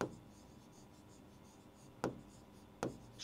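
Quiet handwriting while a maths problem about an equilateral triangle is worked out: a faint, continuous scratch of a pen on paper, close to the listener, broken by a couple of sharper taps, with no talk over it.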